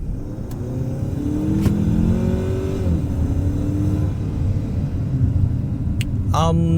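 A 2023 Chery Tiggo 8 Pro 2.0 turbo engine revs hard under heavy acceleration, a steady rising rumble filling the cabin, partly generated through the car's speakers, with a person talking over it.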